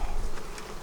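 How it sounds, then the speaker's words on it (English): Honey bees crowd the upper box of an open hive, making a brief, continuous buzzing hum heard close up and fairly soft, with no voices. "This hive has a lot of bees in this upper box."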